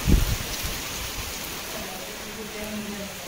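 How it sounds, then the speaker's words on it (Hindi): Heavy rain pours steadily on a village, a dense hiss of falling water with a brief louder patter at the start, continuing alone without talk. "बहुत तेज बारिश होने लगी"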